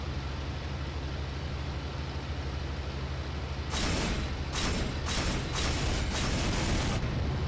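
An anti-aircraft gun is destroyed in IL-2 Great Battles: several sharp blasts burst in quick succession over a constant, loud aircraft engine rumble.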